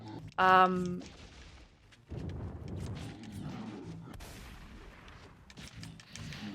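A Hyper Beam weapon fires in the video game Narita Boy, opening with a loud, bright electronic tonal burst, then a long roaring, crackling blast that rumbles and sustains under the game's effects.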